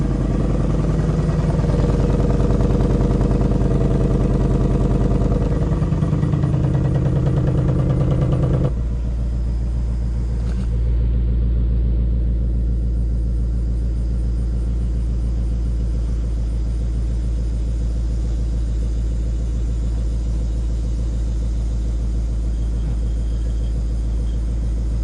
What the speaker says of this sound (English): Last morning start with stock exhaust.